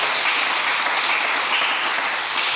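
A church congregation applauding and cheering to acclaim the Lord during a French-language sermon on deliverance, a steady dense wash of clapping filling the whole moment without pause.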